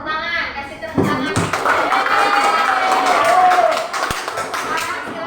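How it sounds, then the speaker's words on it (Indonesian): A classroom group breaks into loud, close clapping mixed with cheering and children's shouts, sustained throughout with a few thumps and a burst of talk near the start. "Udah, tepuk tangan, kasih tepuk tangan."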